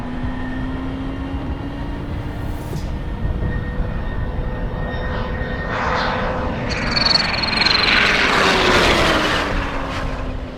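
A supercharged Kawasaki Ninja H2 SX motorcycle accelerates, worked by an auxiliary throttle mounted on the rear pillion grab rail. A steady engine roar swells and rises in pitch, growing louder toward the end with a whining tone over rushing wind.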